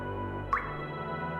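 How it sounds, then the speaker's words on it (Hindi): A single water drop falls with a clear, bright plink, set against a steady low background hum and tonal bed, then quiet continues. "अगर 1 सेकंड में पानी की 2 बूंद गिरती हैं"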